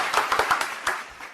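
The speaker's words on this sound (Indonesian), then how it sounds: "Berikan tepuk tangan kepada Lucy." Scattered applause from a small studio audience on an Indonesian political quiz show, a handful of sharp, separate claps fading out within about a second.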